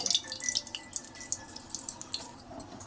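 Oil poured into a kadai before frying crabs gives a steady, close trickle with bright dripping splashes, running continuously without any talk.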